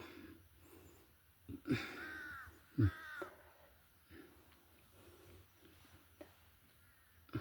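Two harsh crow caws ring out a second apart over a low, steady background hum, fairly distant and faint, with nothing else prominent.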